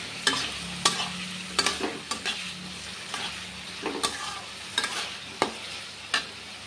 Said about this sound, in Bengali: হলুদ গুঁড়ো অ্যাড করব, জিরে গুঁড়ো অ্যাড করব। ভালো করে মিশিয়ে নেব।